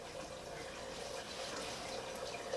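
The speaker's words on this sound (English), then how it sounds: "getting water dripping through onto the bottom glass" Water drips and trickles through onto the bottom glass of an aquarium during bulkhead cutting, giving a faint, steady wash with no clear single drops.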